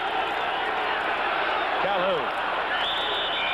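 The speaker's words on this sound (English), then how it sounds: "This capacity crowd getting their share of excitement tonight." Capacity stadium crowd at a 1981 Monday night NFL game between the Cowboys and Patriots in New England, a broad steady roar of cheering and applause that stays loud throughout, with an announcer talking over it.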